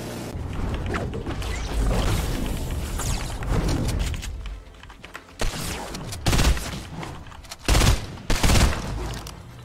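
Turret gunfire in Fortnite, with sustained rapid mechanical firing that gives way to several short, loud bursts separated by gaps.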